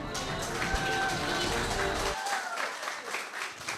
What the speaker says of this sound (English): Round of applause for Askarov Asadbek and Rajabov Abduvasit.